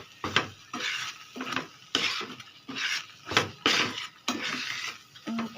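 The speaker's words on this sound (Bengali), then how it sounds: "এখানে অনবরত নাড়তে হবে।" A spoon stirring carrot paste with milk powder in a pan for carrot halwa, repeated scraping strokes against the metal in an uneven rhythm, close and fairly loud with a faint sizzle between them.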